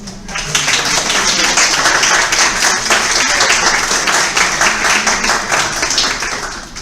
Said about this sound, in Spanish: ¿qué quieren? Un aplauso.